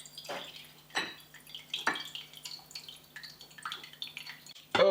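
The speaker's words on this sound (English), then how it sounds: "Let's try draining that off first. There is so much whey here." Whey draining off mozzarella curds, scattered close drips and small splashes with soft clinks of a pot, faint and intermittent, with a louder splash at the end.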